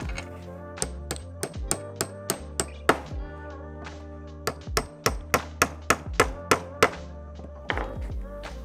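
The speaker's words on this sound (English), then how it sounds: "Now, I should be able to take the dowels and pound them in their holes." Wooden dowels pounded into their holes with a hammer, a run of sharp, close knocks in uneven bursts with short pauses, each strike ringing briefly over a low background tone.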